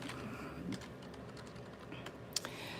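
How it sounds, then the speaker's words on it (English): Someone types on a computer keyboard in scattered bursts of soft, close key clicks, with one sharper tap near the end. "I'm not typing very well today"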